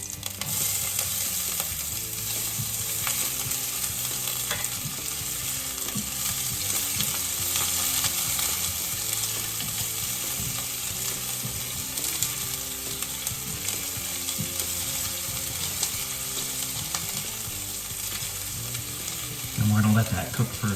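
Garlic and onion fry in olive oil in a pan, a steady close sizzle that runs unbroken throughout, with faint scraping and clinks of a utensil under it and a slightly louder stir near the end.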